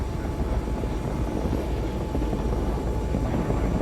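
A fighter jet goes down in Battlefield 2042 amid a full-scale Conquest battle, heard as a loud, steady engine roar with a broad rumbling wash that holds without break.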